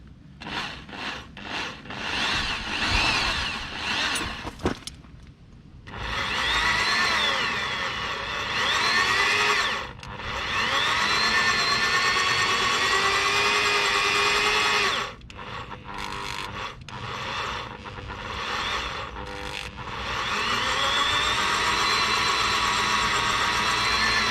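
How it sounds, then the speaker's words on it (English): A 5mm HSS drill bit bores into a broken wheel bolt on a Peugeot 407, giving a grinding, whining drill tone in several long runs separated by short pauses, close and loud. "I'll go myself a 5mm, I believe, HSS drill bit now, and we're gonna try to drill with this"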